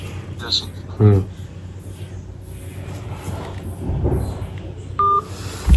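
Telephone keypad dialing tones: a few short, sharp beeps, one near the start and a clearer one near the end, over a noisy indoor background with murmuring voices.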